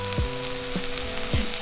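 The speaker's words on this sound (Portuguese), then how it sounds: "Vou dar uma mexidinha aqui pra dar uma fritada" Onions frying in a pan sizzle steadily up close, and three quick scraping stirs break through the crackle at even intervals.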